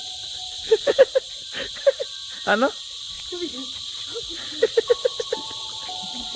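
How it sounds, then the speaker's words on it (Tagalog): Crickets trill steadily at night on Siquijor, a constant high chirping bed under brief bursts of nearby talk and a few louder animal-like calls. "Kung naririnig nyo, grabe yung kuliglig."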